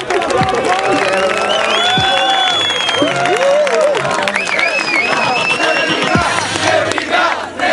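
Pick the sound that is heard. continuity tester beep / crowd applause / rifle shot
crowd applause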